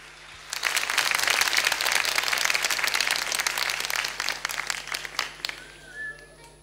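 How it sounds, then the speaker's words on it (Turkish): A crowd at a Turkish folk music concert applauds loudly and continuously as a guest is welcomed on stage, the clapping thinning into scattered claps toward the end. "O güzel alkışlar hiç susmuyor"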